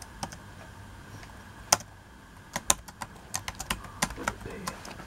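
Keys clacking on a Bluetooth keyboard paired with an Odys Wintab Gen 8 tablet, irregular taps close by that start sparse and quicken into a steadier run of clicks, with no talking.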